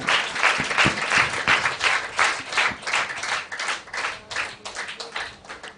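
A church congregation claps hard and loudly, a dense, continuous burst of many hands that holds steady throughout, with no voices standing out.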